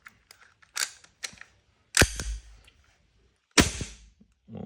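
A KWC Desert Eagle airsoft blowback pistol fires three sharp, loud shots with snapping recoil, spaced a second or more apart, with lighter mechanical clicks of handling in between.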